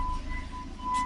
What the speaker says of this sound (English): you're going to take these bolts, slide them back in these holes